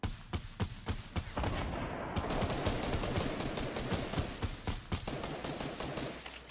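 Video game gunfire, sharp individual shots at first, then a sustained rapid burst of automatic fire, ending in scattered single shots, loud and close.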